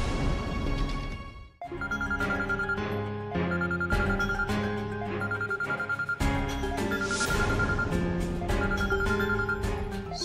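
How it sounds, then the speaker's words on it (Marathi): A telephone rings with a bright, melodic electronic ringtone, its tuneful phrase repeating steadily with short breaks, clear and alone. "सुजित सरांचा फोन"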